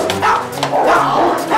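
Dogs bark and yip in quick, close bursts at a kennel in Auray, Morbihan, with loud overlapping barks and a slight whimper.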